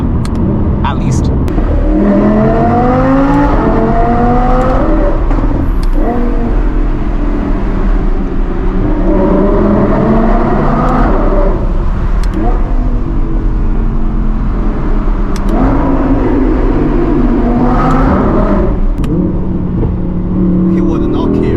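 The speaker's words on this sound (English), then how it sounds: "since this engine is NA, you gotta really climb towards higher RPM ranges to start feeling the torque" An Audi R8's naturally aspirated engine revs hard toward high RPM in repeated climbing sweeps, loud and close from inside the car, with people talking over it.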